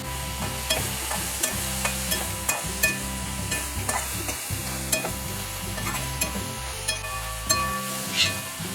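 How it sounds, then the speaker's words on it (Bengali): Taro stolons (kochur loti) being stirred in a pan while cooking as a bhuna, with a continuous sizzle and regular scraping strokes of a spoon against the pan, close up, with no talking. "এবারে একটু আমি নাড়াচাড়া দিয়ে নেব"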